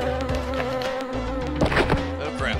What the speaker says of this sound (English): The freaking bees, man.